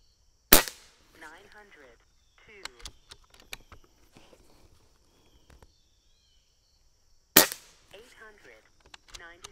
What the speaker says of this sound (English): So we're just going to shoot here and shoot our shot string.